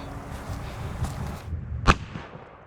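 A single sharp gunshot from a pistol fired at a foldable ballistic shield cracks out near the end of a quiet outdoor stretch, brief and loud against low background noise.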